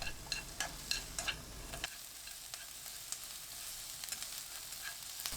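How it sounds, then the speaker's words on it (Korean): Onion is stir-fried in olive oil in a pan over high heat, with a quiet, steady sizzle, a burst of spatula taps and scrapes at the start, and occasional lighter clicks later. "팬에 올리브유 1큰술, 양파 넣고 센 불로 1분 30초 볶습니다."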